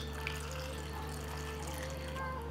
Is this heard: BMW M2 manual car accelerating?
no